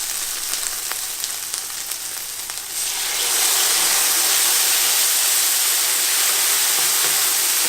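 White wine poured into a hot pan of Hunter's Chicken sets off a sudden loud hiss and steady sizzle that swells and holds, taking over from a quieter crackling fry.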